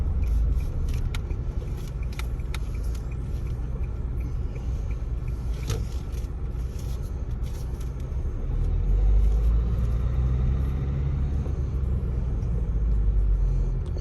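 A manual Nissan Qashqai creeping along under clutch control, a steady low engine and road rumble with faint scrapes and clicks, rising slightly toward the end.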